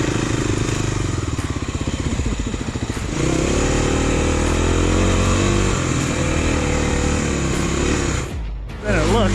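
A Kawasaki KLX dual sport dirt bike rides New Mexico single track at about 5,000 feet. The single-cylinder engine drones and shifts pitch, loud and close, with wind buffeting and a rider's voice partly over it.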